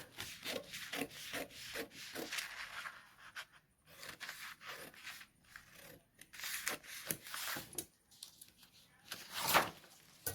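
Scissors or a blade cut through a paper blouse pattern in a run of close, uneven rasping strokes and rustles, moderately loud, with brief pauses.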